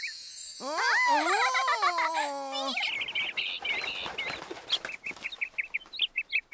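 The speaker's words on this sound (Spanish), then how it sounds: "¡Veo un pájaro!" A bird in a children's show starts with a loud, wavering cartoon squawk, then a fluttering rush of flapping wings, followed by a quickening series of short, bright chirps, close and without speech.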